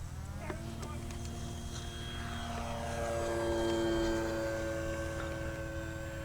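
An AP43 Apprentice S 15e RC airplane takes off with its electric motor throttled to about 60 to 70%, a steady propeller whine that rises in pitch and swells, then shifts as the plane climbs away.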